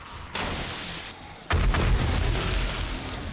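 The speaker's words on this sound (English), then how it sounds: "I lagged it so much that I didn't even see the pipe bomb go." A pipe bomb blast in 7 Days to Die lands as a heavy booming explosion with rumbling debris, following a quieter lead-in of dull noise.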